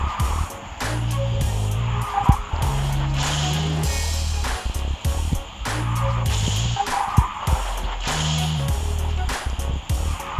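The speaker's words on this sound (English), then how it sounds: "at this part, I always like drift a bit so I can get another boost" Karts drifting in the Garena Speed Drifters racing game, with repeated tire skids and squeals cutting in and out over a steady engine hum and game music at a close, even level.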